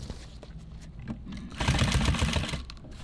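A sewing machine stitching nylon tactical gear runs in a steady rapid mechanical chatter that starts partway through, loud and close, preceded by quieter handling noise.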